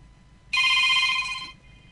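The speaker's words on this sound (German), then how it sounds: "jetzt ist mein Klingelton wieder richtig" A phone ringtone plays a single bright electronic chime for about one second, loud and close, before cutting off into near silence.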